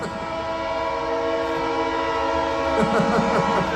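A train passes near a fan convention in Arapongas, its horn blowing in long sustained tones over a steady rumble of the cars, with crowd noise faintly underneath.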